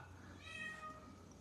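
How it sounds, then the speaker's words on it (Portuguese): A house cat meows faintly in a room in the background, a quiet, drawn-out cry with no talking over it. "Isso é o meu gato miando ali, gente."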